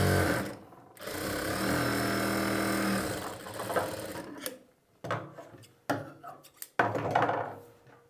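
A sewing machine stitches the lining of a round-neck blouse, a close rapid mechanical whirr running steadily for a few seconds, then short start-stop bursts of stitching with pauses and fabric handling.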